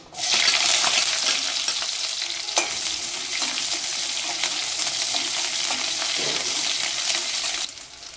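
Shallots tipped into hot oil with fenugreek and mustard seeds, bursting into a loud, bright sizzle that holds steady for several seconds, then drops off abruptly near the end; no talking.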